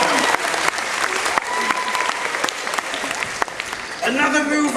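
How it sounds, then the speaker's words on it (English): An audience at a Star Wars stage show at Disney's Hollywood Studios claps loudly and continuously, a dense burst of applause with voices audible over it. "A round of applause you would like to give?"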